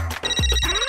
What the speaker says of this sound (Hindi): He's calling. Video call.